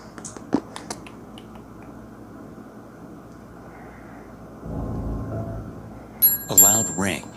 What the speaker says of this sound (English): A loud ring alerts me to a guest's arrival